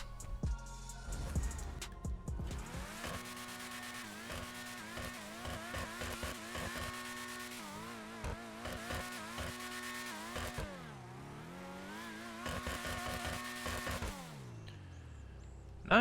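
Principe Deveste Eight supercar from GTA Online revs hard through repeated climbing and falling engine notes, a loud, close, continuous roar with sharp throttle blips and stepped shifts across the whole stretch.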